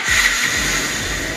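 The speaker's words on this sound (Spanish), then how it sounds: "Encendemos lo que es la moto y miren." A motorcycle engine turns over and catches on a cold start, starter cranking pulses giving way to a steady running idle, close and fairly loud with no voices.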